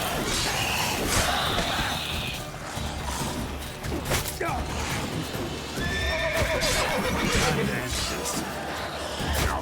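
A horse whinnies and hooves clop amid a busy soundscape in The Witcher 3, with layered effects and occasional voices throughout.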